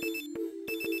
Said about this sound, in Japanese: 電話、お、まだガラケーじゃないですね。